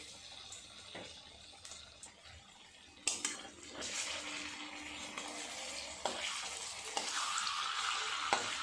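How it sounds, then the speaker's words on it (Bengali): Palm fruit fritters (taler bora) frying slowly in hot oil over medium heat, a steady crackling sizzle throughout with a few louder bursts and stirring clinks, no talking. "মিডিয়াম আঁচে আস্তে আস্তে ভাজা করতে হবে।"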